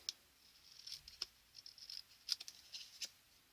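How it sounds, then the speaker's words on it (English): Scissors trimming paper pieces for a handbag album craft, heard as a sparse run of small crisp snips and paper rustles, close up and quiet, with no talking. "They are not needed, so we can just trim around those."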